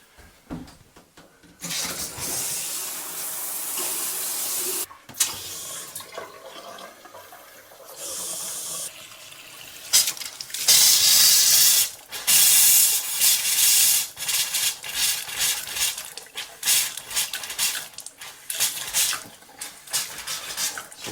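Water rushes and sputters from a hot-water tap on a fresh water system, hissing and gurgling in uneven bursts as air purges out of the pipes.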